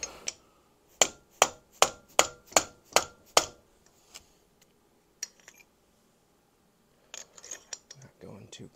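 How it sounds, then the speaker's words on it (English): A dead blow hammer drives a wrist pin into a piston on a 1972 Harley-Davidson XLCH Ironhead motorcycle, eight sharp, evenly spaced strikes in quick succession, then a few lighter knocks and some shuffling handling noise. "dead blow, holding the piston in just to drive that wrist pin all the way so it's seated"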